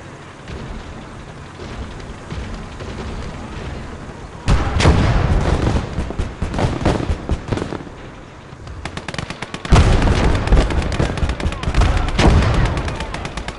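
Battlefield fire from the video game Gates of Hell: Red Star Rising, likely a mortar or machine gun nest: a dense, steady barrage of loud, rapid cracks and booms that swells in heavy bursts over continuous rumbling combat noise.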